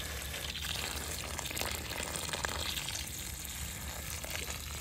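Water pours and soaks into the soil around a freshly planted macadamia tree, a soft, steady wash of liquid that stays fairly quiet and even from start to finish.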